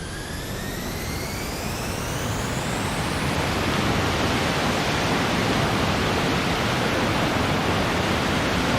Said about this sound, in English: Like the afterburner has been regulated. It's more realistic now.